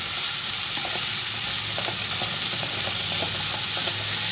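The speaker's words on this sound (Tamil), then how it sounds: "இப்போ ஹை ஃப்ளேம்லேயே வச்சு காய்கறி நல்லா வதக்கி கொடுங்க." Vegetables stir-fry over a high flame for vegetable fried rice, giving a loud, steady sizzle with light scraping and clinks from stirring throughout, no voices.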